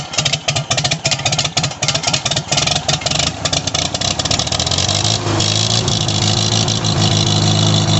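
An International Harvester IH 120 mower engine sputters and chugs unevenly at first. Then it takes more throttle and settles into a louder, steady, higher drone.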